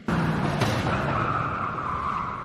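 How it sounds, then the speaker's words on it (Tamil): A car tyre punctures on the road in an animated short film. A loud, close rush of hissing, scraping noise with a screeching tone holds for about two seconds, then cuts off suddenly. "என்ன சத்தம் டயர் பஞ்சர் ஆயிட்டோ"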